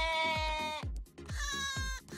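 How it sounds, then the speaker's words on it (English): A sheep in a Minecraft world running the Hardcore MadPack 2 modpack bleats twice in a row, the second call following a brief pause, loud and close. "Oh, shut up, sheep."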